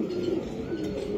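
A racing pigeon at a club gives a soft, low coo, faint and close, over light background noise.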